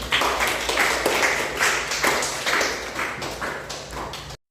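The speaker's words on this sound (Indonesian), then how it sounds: "Silakan beri aplaus kepada Katri." Students applaud in a classroom micro-teaching session, several pairs of hands clapping in quick irregular bursts for about four seconds, nearby and moderately loud, then stopping abruptly; nobody speaks over it.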